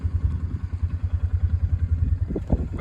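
A pickup truck engine runs steadily on a cattle ranch as cattle are moved, a low rhythmic throb close by with a few thuds and clatters near the end.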